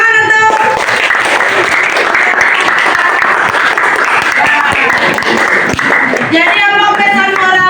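A school audience at a cultural storytelling presentation breaks into loud, dense applause that runs steadily throughout, with a voice and music surfacing near the end.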